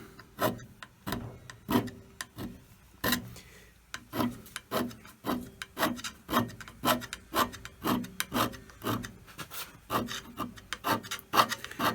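A forced tool tip scrapes shavings on an Elliot 14S, a run of close rasping strokes repeated at an uneven rhythm, roughly two per second, each a short, gritty scrape.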